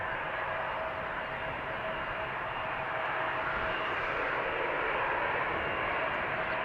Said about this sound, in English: CRJ moving towards the runway threshold.